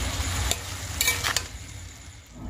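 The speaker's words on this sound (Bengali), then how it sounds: "এই যে বাঁধাকপি ভাজাটা বসিয়ে দিয়েছি, একটু শুকনো লঙ্কার গুঁড়া আর একটু লবণ দিয়ে" Cabbage fries in a pan with dry chili powder and salt, a steady sizzle with a few sharp scraping clicks of a spatula stirring, close and without talk.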